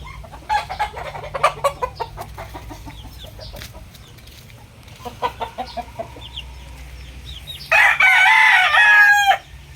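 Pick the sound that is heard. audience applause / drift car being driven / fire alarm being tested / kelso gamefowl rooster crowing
kelso gamefowl rooster crowing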